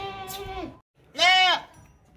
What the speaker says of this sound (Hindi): ये देखें भागती दौड़ती खूबसूरत बकरी है